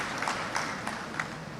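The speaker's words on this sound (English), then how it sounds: "Please give her a big round of applause." Audience applause at a university convocation ceremony, a steady wash of clapping from a large crowd lasting the whole short moment.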